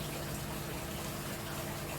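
Vinegar is poured over gravel and expanded clay sitting in water, producing a continuous gushing, splashing pour at moderate volume with no voices.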